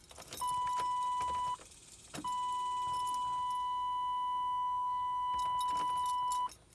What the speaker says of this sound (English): I could already hear the fuel pump